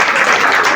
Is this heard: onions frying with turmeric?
no